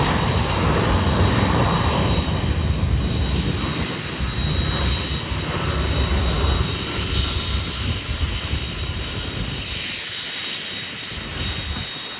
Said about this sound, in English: this is Contour 3206 heading to St. Martin on the Embraer